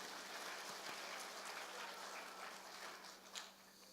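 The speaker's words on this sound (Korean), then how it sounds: "서로에게 박수를 한번 주십시오." A church congregation of around six hundred claps together in dense, continuous applause that stays loud and even throughout before easing slightly at the end.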